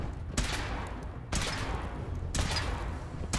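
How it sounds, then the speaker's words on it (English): Bursts of gunfire from a power armor suit weapon test in Fallout 4 come as three loud separate volleys about a second apart, each crackling briefly before the next. "Firing."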